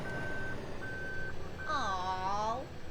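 A truck in Farming Simulator 15 sounds a clear, evenly spaced reversing beep three times over a low engine drone, while a voice loudly mimics the beeping over the last one.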